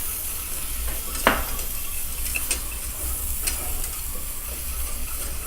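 Flour being whisked into a quarter stick of melted butter over medium-low heat to start a roux, a continuous close sizzle with faint scraping and a few clicks of the whisk against the pan.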